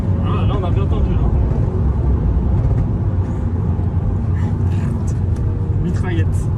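A tuned VW Golf 6 R rumbles steadily from inside the car, with a few sharp exhaust pops and crackles breaking through. A voice talks over the engine noise.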